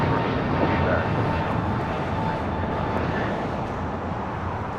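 A departing airliner at LAX airport roars in a broad, steady rumble that fades slightly, with a voice faintly underneath.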